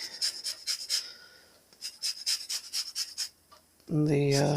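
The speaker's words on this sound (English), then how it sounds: "I'm just going to zest a little of this lemon" A lemon is zested over a bunch of basil, giving a series of short rhythmic rasping strokes, close and fairly quiet, ending with a louder clattering sound.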